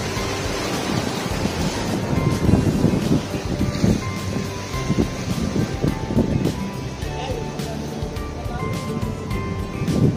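Sea waves washing against the Tamsui shore in Taiwan, a steady broadband surf wash with wind buffeting the microphone throughout, continuous and fairly loud without clear individual breaks.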